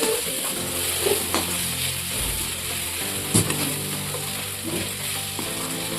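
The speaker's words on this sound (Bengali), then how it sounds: "এটাকে আমরা অল্প ভালো করে কষিয়ে নিই" Kashmiri chili powder and turmeric paste stir-fried in a pan, giving a steady close sizzle with scraping stirs throughout and a few louder clanks of the spoon, no voices.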